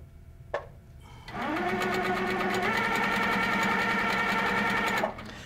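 A sewing machine stipple quilts a decorative filler pattern, starting after a short click and then humming at a steady, fast, close rhythm for several seconds before stopping.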